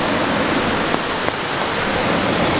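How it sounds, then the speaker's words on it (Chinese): A small waterfall near the mouth of Milford Sound fjord in New Zealand, on a rainy day, makes a steady, dense rushing hiss that stays even throughout, with no voices. "这是我们在接近峡湾口的地方看到的一小条瀑布"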